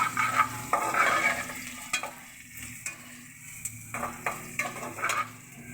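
Eggplant pieces frying in a pan for an Afghani eggplant dish, a steady sizzle broken by sharp clinks and scrapes of a utensil stirring and turning them, close and clear, with no one talking.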